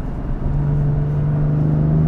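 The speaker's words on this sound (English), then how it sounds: "That's the exhaust. I wanted you guys to hear what that sounded like." Exhaust note of a BMW F80 M3 with about 600 horsepower, a steady low rumble with a droning tone that holds and slightly rises, close and fairly loud with no talking over it.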